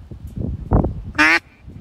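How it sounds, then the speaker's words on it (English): A hand-blown duck call sounding one loud, buzzy quack near the end, preceded by soft rustling and a brief thump outdoors in a field near wild mallards. "Let's see what happens when I blow the duck call."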